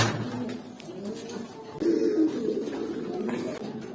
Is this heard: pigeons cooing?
yes